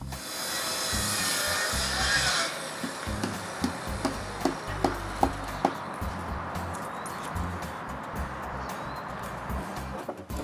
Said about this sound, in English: Meanwhile, Eric cuts all the long braces.